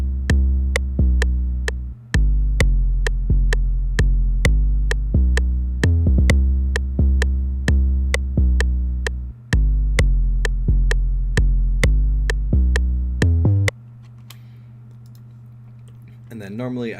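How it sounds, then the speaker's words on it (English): Regular Spinz 808 bass tuned to C, a deep booming sub-bass pulsing in a steady repeating pattern of long sustained notes with sharp clicky attacks, loud and dry, cutting off abruptly near the end before a faint tail. "This is just the regular spins 808,"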